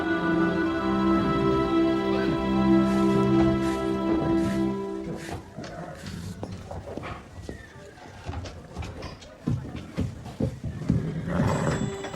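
A horse whinnies loudly near the start, followed by hoof clops, shuffling and scattered movement noises.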